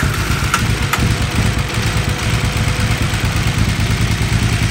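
A KTM 990 Adventure motorcycle engine idles steadily and close, a continuous throbbing rumble with a slightly uneven, knocking pulse, while the bike has a throttle and stalling fault.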